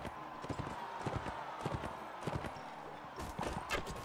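Horse hooves clip-clop in quick, irregular rhythm in a battle in the video game Mount & Blade Warband, moderately loud and continuous, mixed with clattering combat noises and a faint voice.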